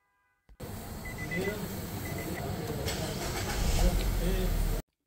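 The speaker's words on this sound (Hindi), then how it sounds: "तो गाड़ी करते हैं स्टार्ट और चेक करते हैं" A Nissan Juke engine cranks and starts, a steady loud rumble running throughout and swelling slightly toward the end before cutting off abruptly.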